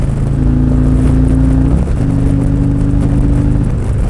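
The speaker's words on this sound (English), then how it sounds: "let's get the RPMs up and go to sixth" A Harley motorcycle with a hydraulic clutch revs up while shifting into sixth gear, a loud, steady engine drone whose pitch climbs, dips briefly at the shift, then holds again close by.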